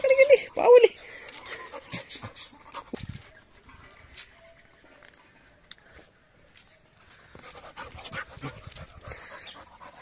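A new Labrador puppy pants and snuffles in quick bursts close by, with short louder outbursts early on and someone talking over parts of it.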